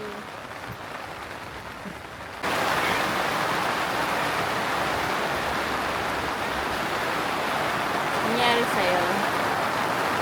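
Steady rain pours down at a campsite, jumping abruptly from a softer hiss to a dense, loud wash of noise that keeps up without a break, while voices speak faintly beneath it.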